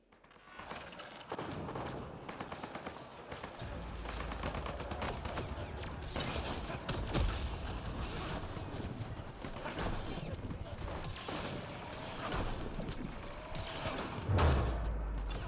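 Mounted turrets firing on enemy soldiers in a shooter game, a sustained rattling barrage of gunfire running almost the whole time, loud and dense, with game voices talking over it.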